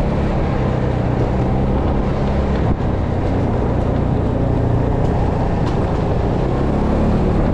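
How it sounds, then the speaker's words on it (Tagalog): A vehicle exhaust with a hole in it rumbles loudly and steadily up close, with one sharper pop standing out partway through. "Pumuputok yung aking tambutso guys, may butas kasi hindi ko pa mapapagawa"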